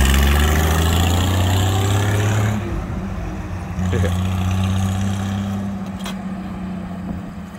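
Allis Chalmers WD-45 tractor engine idling with one cylinder missing, a steady low putt-putt drone with a brief throttle change partway, close by and without talk.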